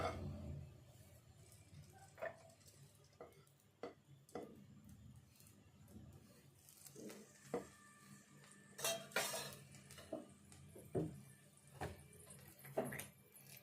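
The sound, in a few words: pan placed on the stove, a spoon of ghee added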